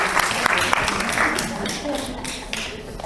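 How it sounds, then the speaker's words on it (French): An audience claps at a farewell gathering, a burst of applause that gradually thins out, with voices talking over it. "il faut applaudir."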